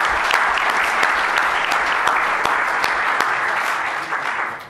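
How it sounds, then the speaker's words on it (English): Applause for the speakers fills the room at the end of a Q&A session on fibres, a loud, dense round of clapping from the audience that holds steady and tapers off slightly at the end. "I'd like you to give the speakers a round of applause for a great session."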